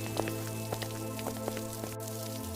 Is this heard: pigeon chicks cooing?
no